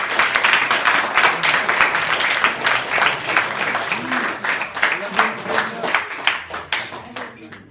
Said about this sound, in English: So let's start with a huge round of applause for Mr. Leduc.